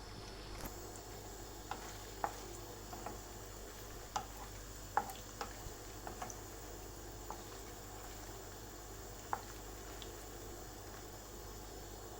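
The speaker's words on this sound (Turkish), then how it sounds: "köfteleri biraz yağda kızarttı" Quiet, steady sizzling of meatballs frying in oil for tutma soup, with scattered soft pops and crackles and occasional clicks of stirring, no talking.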